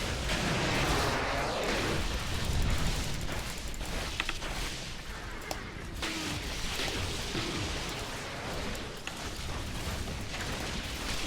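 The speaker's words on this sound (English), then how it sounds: "Plenty of explosions going on in here." Explosions in the video game Diablo 3 Reaper of Souls during a hardcore Crusader fight, a continuous rumbling barrage of blasts and impacts with sharp crackling bursts layered over a dense, busy combat din.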